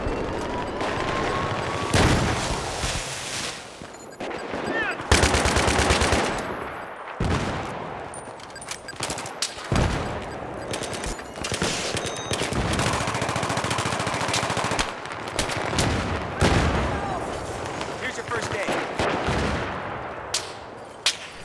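Video game gunfire, sniper shots mixed into a near-constant barrage of loud rapid and single reports with booming impacts, continuous and close, little talk.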